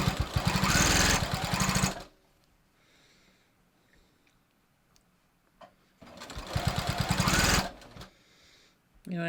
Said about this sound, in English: I'm sewing with the crown on the inside so I can see that I'm sewing those seam allowances flat.